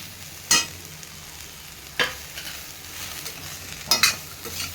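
Snacks frying in a hot kadai under a faint steady sizzle, with three distinct scraping stirs spaced a couple of seconds apart and no talking.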